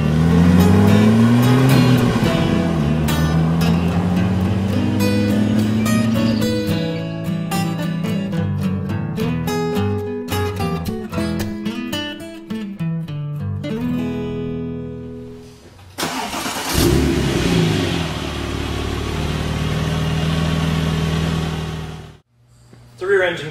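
Engine of a 2004 Porsche 911 Turbo Cabriolet, a 3.6 liter twin-turbocharged rear-mounted flat six, revving up and down in repeated swells, then settling near idle before a sudden cut-off.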